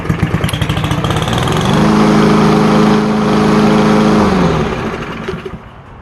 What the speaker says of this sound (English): Let it run for about 5 minutes so that you can create that suction that's gonna suck the gas up